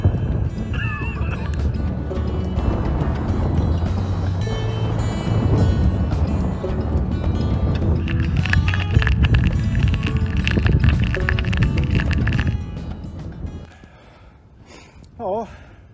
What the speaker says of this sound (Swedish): Det är lite blåsigt så man får skrika!